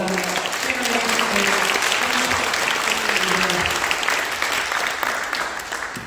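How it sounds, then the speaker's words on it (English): Audience applause fills a community celebration at a Jewish community center, dense and sustained clapping from a large crowd throughout, tapering slightly at the end. "So another round of applause, please"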